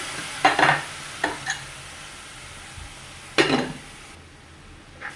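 Salted, boiled white chickpeas are stirred into a frying masala in a pan, giving a few short scraping stirs over a faint background sizzle, close and fairly quiet with pauses between strokes.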